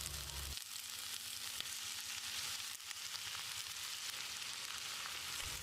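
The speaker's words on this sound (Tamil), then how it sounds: "ஒரு நிமிஷம் கத்திரிக்காயை நல்லா வதக்கி விடணும்." Quarter kilo of lengthwise-cut brinjal sizzling steadily in hot oil as it is sautéed in a pan, a loud continuous frying hiss with light stirring scrapes, no voices.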